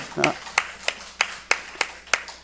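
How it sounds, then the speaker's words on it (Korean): Congregation clapping in unison at a Sunday morning church service, seven sharp evenly spaced claps, each distinct, with a brief voice at the start. "우리 살아계신 하나님께, 응답하신 하나님께 영광의 박수를 내드립시다"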